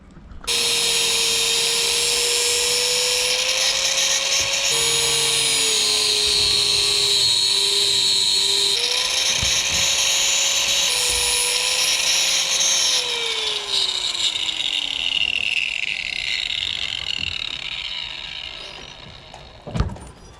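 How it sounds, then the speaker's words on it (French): An angle grinder works a metal part aboard a sailboat in port, whining loud and close for most of the time, its pitch dipping and rising under load before it winds down and stops with a final knock. "un petit coup de meuleuse, vite fait, bien fait"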